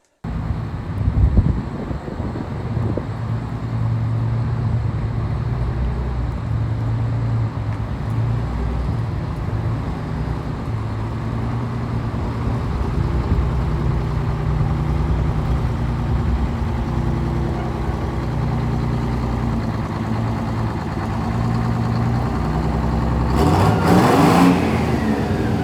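An old pickup truck engine starts with a sharp burst, then settles into a steady rumbling idle and low-speed drive as it is pulled out on a farm, with a faint rise near the end and no talk.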